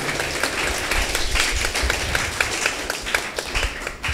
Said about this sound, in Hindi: तालियां बजाना तो जोर से बजाइए